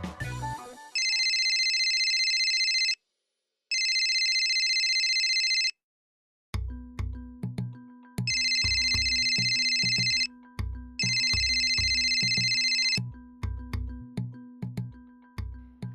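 An incoming phone call rings out as a loud electronic ringtone, repeating tonal bursts separated by short gaps and then joined by a rhythmic plucked melody, with no talking over it.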